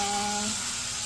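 An electric brush scrubs doormats with a loud, hissing, buzzing whir and a steady tonal hum underneath, heard close and continuous.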